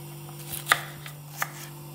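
A knife slices through potatoes or mutton for a degi aloo mutton shorba, giving two crisp cuts on a board against a quiet hum in a kitchen, close and distinct, with no talking.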